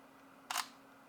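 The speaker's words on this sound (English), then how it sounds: "you got to press the shutter button at the top here" A Sony NEX 5R camera fires its shutter once, a single crisp, close click over a quiet room hum.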